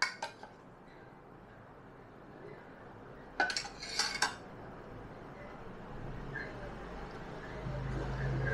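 Milk being stirred into a mixture with a spoon for a birthday treat, with a few clinks of metal against the bowl clustered near the middle over a quiet background.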